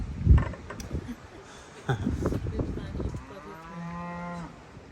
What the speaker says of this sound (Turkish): Bak orada yemeğini yiyor inek.